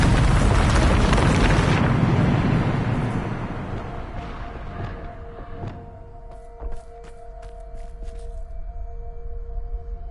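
A Bombarda spell blast in a game: a massive, loud boom that rumbles and slowly fades over several seconds, leaving low sustained tones and scattered small crackles and debris sounds.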